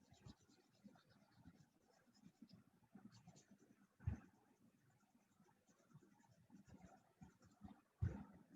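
A marker scratches across paper while coloring in paper antlers, with irregular soft strokes and rubbing, quiet and close, with a couple of louder taps.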